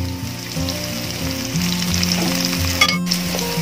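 Curry leaves hitting a pan of sizzling squid masala, a loud steady frying hiss with crackling bursts and the scrape of stirring, close up and without talk.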